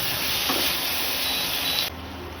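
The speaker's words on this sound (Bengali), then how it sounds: "সয়া সস আর গোলমরিচ গুঁড়ো সব ভালোভাবে মিক্স হবে।" Chicken stew with soy sauce and ground pepper being stirred in a pan, a steady sizzling hiss with a faint scrape, then a sudden drop in level near the end.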